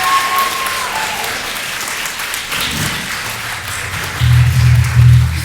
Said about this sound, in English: One more round of applause for our current booster president, Kirsten Hughes.